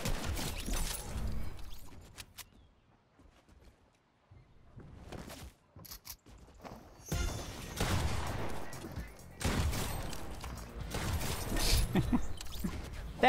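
Pump shotgun blasts and other gunfire in the video game Fortnite come in several sharp, loud bursts separated by quieter gaps, with occasional game effects between shots.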